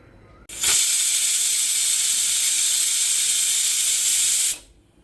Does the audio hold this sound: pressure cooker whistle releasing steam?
yes